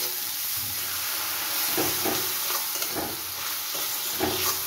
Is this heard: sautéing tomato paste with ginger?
yes